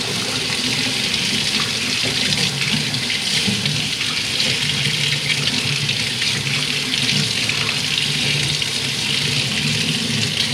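Water runs steadily from the tap into a deep kitchen sink, a constant close splashing rush with no breaks for the whole stretch.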